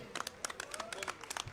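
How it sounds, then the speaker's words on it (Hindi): Crowd applause and clapping welcoming a speaker at a farmers' thanksgiving rally in Gohana, a steady bed of scattered claps with sharper bursts, fairly faint and distant across the whole moment. "जोरदार तालियों से एक बार उनका स्वागत करें"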